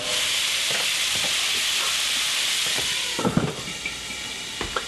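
Brown braised onions with a herb bouquet sizzle loudly and steadily in a pan, a broad hiss joined by occasional clatters of stirring.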